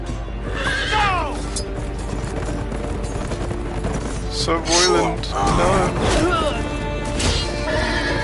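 A horse neighs and whinnies in a Game of Thrones video game scene, rising squeals in short bursts amid clatter and crashing effects, with someone talking over it.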